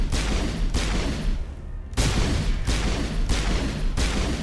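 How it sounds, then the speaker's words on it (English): Gunfire in the video game Mass Effect Legendary Edition: repeated loud, heavy bursts of shots in roughly half-second pulses, broken by a brief pause, close and dominant. "Who's shooting at us?"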